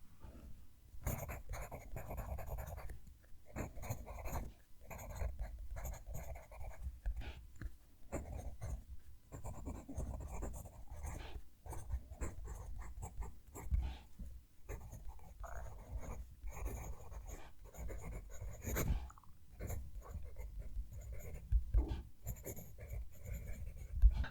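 A pencil writing on paper with continuous close, scratchy strokes in quick bursts and brief pauses, a dry rasping sound like a loud whisper, heard alone and fairly quiet.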